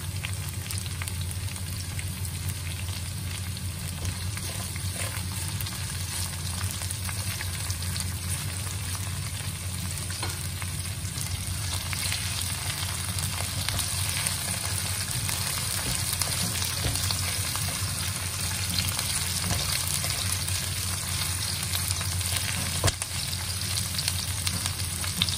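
Onion stir-frying in a hot pan, a steady bright sizzle with occasional scraping stirs and small crackles running continuously at close range without talk.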